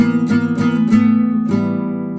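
A few guitar notes plucked in quick succession over a sustained ringing tone, close and clear, the last note left to ring out.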